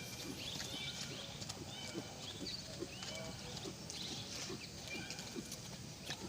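A horse trots on a lunge line over a slippery, rain-soaked field, its hooves giving faint, steady clip-clop beats amid outdoor ambience, with distant voices and birds.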